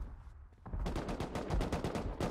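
Rapid gunfire in the survival video game Rust, a dense burst of repeated shots following a short quieter lead-in, loud and continuous to the end with no talking.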